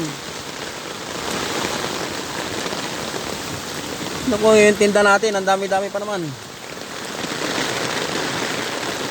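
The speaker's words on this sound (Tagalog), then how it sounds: "Sobrang lalakas ng ulan." Heavy rain hisses steadily and loudly, with a person speaking briefly in the middle over the downpour.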